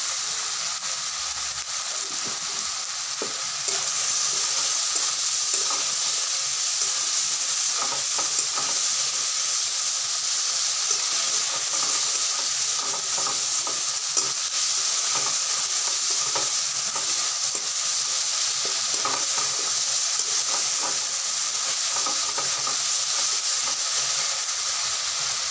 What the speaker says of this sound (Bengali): হালকা আগে মশলাটাকে কষিয়ে নিতে হবে।